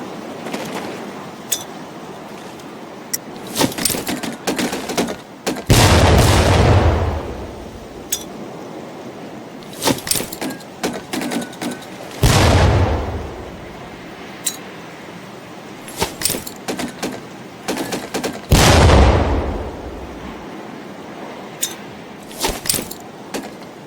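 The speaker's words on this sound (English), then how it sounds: "Pull the pin and let them fly. See if you can hit some of those barrels out there." Training grenades explode during boot camp in Medal of Honor: Pacific Assault, three heavy booming blasts roughly six seconds apart, each with a rumbling decay, and sharp metallic clinks and clatter in between.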